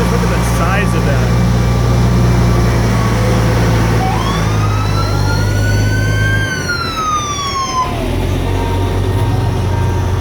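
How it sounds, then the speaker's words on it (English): Large fire trucks roll past in a small-town midsummer carnival parade, their loud siren sweeping up and down over a steady engine rumble, with crowd chatter underneath. "Some big vehicles there for putting fire out in those remote locations and such."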